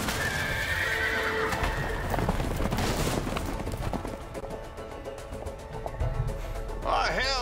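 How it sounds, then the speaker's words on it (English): Horses in the video game A Way Out whinny and clop their hooves loudly and continuously, with a higher neigh rising near the end, over a busy mix of game sounds. "the horses are escaping"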